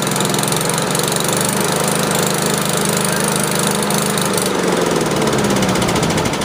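A Honda HRS21 push lawn mower engine runs steadily up close, a loud continuous rough drone with a slight knocking beat that dips and shifts in pitch near the end as it runs low on fuel.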